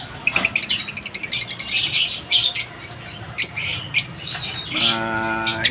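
Lutino and Cremino parrots squawk and chirp up close in quick, bright bursts, one rapid run of calls followed by scattered louder squawks and a longer nasal call at the end.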